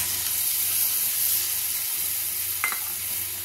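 Water goes into a hot pan of sizzling spices for paneer bharta, producing a loud steady hiss and sizzle throughout, with a short sharp clink and splash late in the clip.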